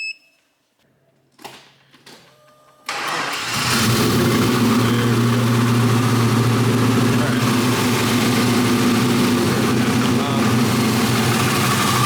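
BMW Z3 with a swapped LS1 V8, jump-started from a diesel-powered booster pack: a few clicks and cranking, then the engine fires and settles into a loud, steady, rumbling idle close by.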